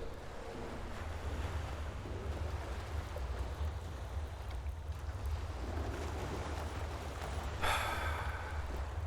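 Ocean waves in the video game Enderal wash steadily against the shore, a continuous rushing surf with wind noise, loud and close, with a brighter splash near the end.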